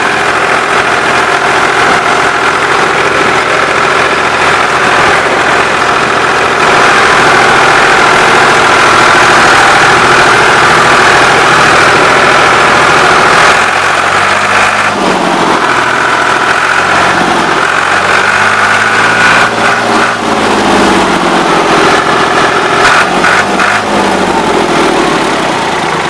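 Ford 3910 tractor engine running steadily for the whole stretch, a continuous loud mid-pitched drone with a rough low rumble and some vibration, the throttle staying fairly even throughout.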